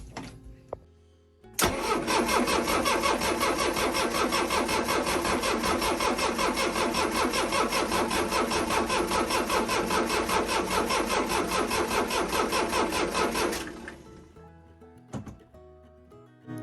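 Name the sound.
diesel boat engine cranking, failing to start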